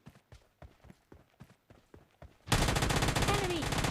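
Uzi submachine gun in PUBG Mobile Lite firing several short bursts, then a dense continuous burst of gunfire that grows louder and fills the rest of the clip.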